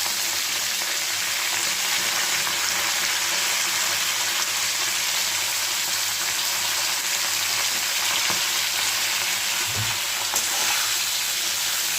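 Pointed gourd, drumstick pieces and spices frying in hot oil make a steady, dense sizzle with a faint stir or scrape near the end, close and continuous with no talking.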